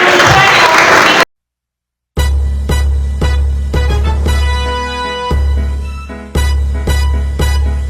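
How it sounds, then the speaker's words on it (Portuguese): Applause for pastors at a district church appreciation-day gathering comes in bursts of clapping with a rhythmic beat, loud and close, cut by a brief silent gap near the start. "Vamos dar um aplauso aqui para os nossos pastores"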